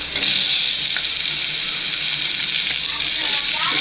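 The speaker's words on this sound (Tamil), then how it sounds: "இப்போ நம்ம டொமேட்டோ சேர்த்துப்போம்." Tomatoes tipped into sautéed onions for sambar rice, raising a loud, steady, hissing sizzle that fills the whole stretch, close and continuous, with faint clatters on top.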